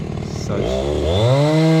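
A chainsaw cutting timber from a felled tree revs up from a lower buzz to a loud, sustained high whine, close and continuous.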